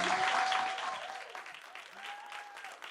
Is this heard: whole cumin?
no